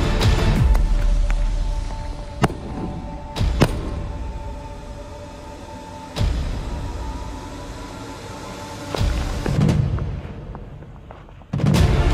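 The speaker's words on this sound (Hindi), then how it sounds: "जल्दी से इनमें आग लगाते हैं और धमाका करते हैं" Several loud, sharp bangs of firecrackers exploding on an LPG gas cylinder break through a constant roaring rumble, spaced a few seconds apart, with rumbling decay after each blast.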